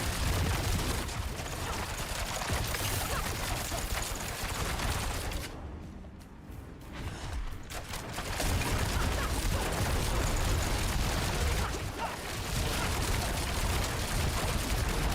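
Bursts of poison explosions in a video game crackle and rumble in dense, overlapping blasts, easing briefly in the middle before building back to a loud, continuous barrage.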